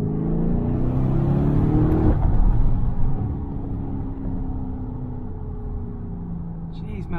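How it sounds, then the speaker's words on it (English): Lamborghini Urus engine and exhaust revving on a mountain road drive, a loud, deep rumbling roar that swells then settles into a steady drone, heard from inside the car with someone talking over it. "That exhaust."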